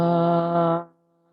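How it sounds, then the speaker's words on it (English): A single sustained chanted Om closing a yoga practice, a steady rich hummed tone from one close voice that fades out after under a second. "Let's close with one Om."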